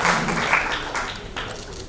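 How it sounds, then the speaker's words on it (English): Audience applause at the launch event for a Parkinson's disease treatment, a dense, steady wash of many hands clapping together that continues evenly with no breaks and no talk over it. "Can we continue clapping, please?"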